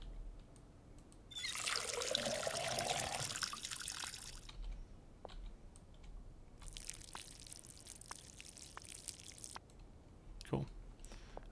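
Water pours while plants are watered in the video game Schedule I: two bursts of splashing, hissing flow, the first louder and longer, followed by faint clicks and taps.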